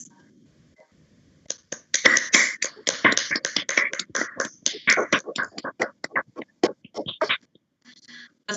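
Applause from a modest audience at a formal university ceremony conferring an emeritus professor title, beginning after a quiet moment, swelling into dense close claps, then thinning to scattered claps as it fades.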